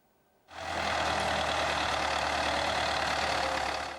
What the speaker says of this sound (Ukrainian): Ось так часом спокій у лісі порушує робота трактора